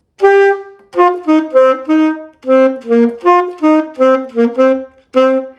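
A solo alto saxophone plays a longer melodic line of about a dozen detached notes moving up and down, close and clear, alone.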